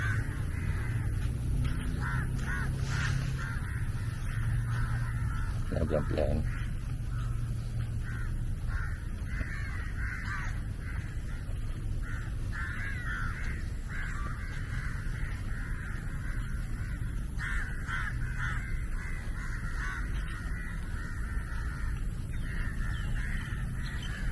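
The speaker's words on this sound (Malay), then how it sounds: "burung. Pun gagak." Crows cawing in a large park, repeated harsh calls of moderate distance over a constant background hum, scattered across the whole stretch.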